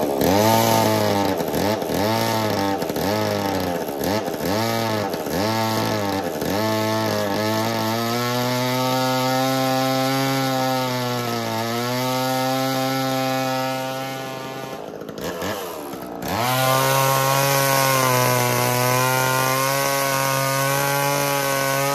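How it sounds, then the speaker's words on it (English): A 1980s vintage chainsaw with a Versa drill attachment bores into wood. The close, loud two-stroke engine pulses in repeated revs, then holds a sustained high drone, dips briefly and climbs back up. "fire a saw today and see if I could be careful not to smoke the clutch or what's left of the clutch and do a little bit of drilling"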